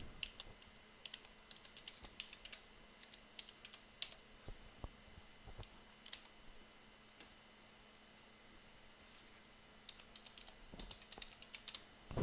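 Typing on a computer keyboard at a desk while working in UDK, with steady, quiet clicks in irregular bursts for about twelve seconds, faint against a low background hiss.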